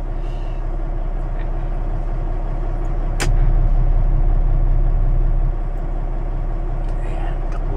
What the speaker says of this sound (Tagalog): Takbuhan na yung mga truck.